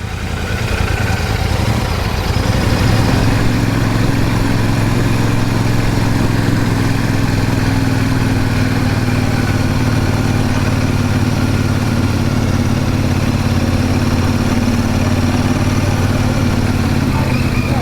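A Royal Enfield 650 engine while riding, a loud, steady low drone with a constant mechanical hum close to the listener, barely changing throughout with no talk.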